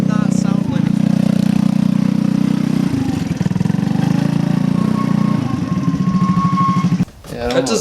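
A long-neglected, previously wrecked go-kart engine running poorly and sputtering as the kart drives, giving an uneven, surging small-engine drone with voices over it before it cuts out abruptly near the end.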